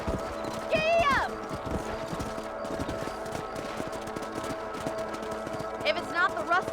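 Horse hooves clip-clop at a steady gallop while riding through a ranch property in Red Dead Redemption, close and clear over rumbling game ambience, with a couple of rising whinny-like squeals and voices present.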